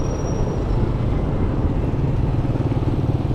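A motorcycle running along a road through a market town, its engine droning loud and steady close by throughout, with traffic noise mixed in and no talking.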